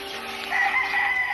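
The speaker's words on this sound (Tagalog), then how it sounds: "Manok natin. Mga alaga natin." A pet rooster crows in one short, loud cock-a-doodle-doo close by. The call rises partway through and holds steady, with no voices over it.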